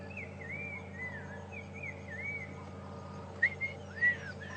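A black-crowned tchagra gives repeated clear, sliding whistled phrases at Djuma Game Reserve on a morning safari drive, with a steady low engine hum underneath and a few sharper whistle notes near the end.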